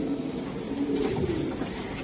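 A racing pigeon gives a soft, rolling coo close by, low and steady over a short stretch.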